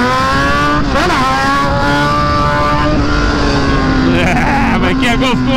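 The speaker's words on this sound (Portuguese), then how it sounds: "Olha essa potência dessa moto. Aqui é mil, papai." A 1000cc motorcycle engine revs loud and close, its rising and falling tone swelling through repeated throttle blips over steady mechanical roar, with someone talking over it.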